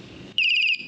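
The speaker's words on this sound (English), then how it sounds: "It's that weird chirpy bird sound." A single high, trilling electronic chirp from a golf cart alarm sounds for under half a second, bright and close, like an artificial bird call, in an otherwise quiet setting.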